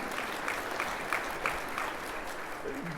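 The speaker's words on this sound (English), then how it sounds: "You can clap, come on." Audience at a government state-of-the-precinct speech event applauding, a fairly faint, steady wash of clapping heard from a distance throughout.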